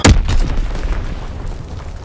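An artillery battery fires in Call of Duty WWII, one heavy close boom at the start followed by a rumbling low decay that fades slowly, with no voices.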